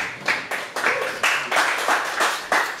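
A crowd at a taco-shop comedy show keeps clapping for the performers: close, busy applause with rhythmic surges every half second or so, running continuously without any voices on top.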